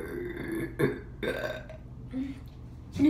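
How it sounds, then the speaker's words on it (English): A single loud, drawn-out burp close to the microphone, with short pauses and breathy sounds between its rough pulses. "biggest burp, and excuse me"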